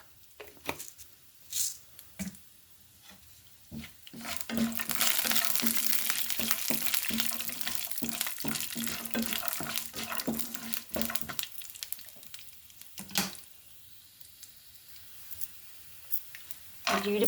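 Urad dal sizzles in hot oil for atukula upma, starting quietly and swelling into a steady broadband fry in the middle, then easing off. Scattered clinks and stirring clatters punctuate it.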